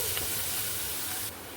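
Ginger garlic paste frying in a pan for tomato bath, a steady close hiss and sizzle that drops slightly in level near the end.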